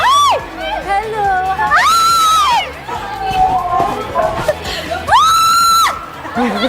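A crowd of excited fans shouting and screaming in high, piercing bursts that rise and fall, with two long shrill peaks of screaming and voices greeting over the din.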